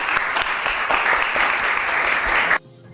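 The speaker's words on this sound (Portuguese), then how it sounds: "Dê uma salva de palmas ao Senhor." Church congregation applauding during a Baptist worship service, dense clapping for about two and a half seconds that cuts off abruptly into near silence.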